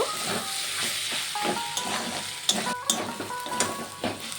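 Mashed boiled potato being stirred into a sizzling fried kachori filling in a pan, with soft hissing and frying under repeated scraping and stirring strokes, close and moderately loud, with no talk.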